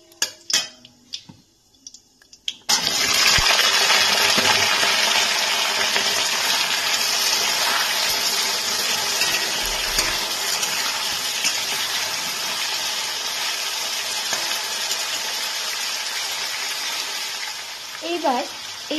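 Potatoes drop into black cumin seeds frying in hot oil, and a loud, steady sizzle starts abruptly after a few seconds of quiet handling, continuing strongly with faint stirring clinks throughout.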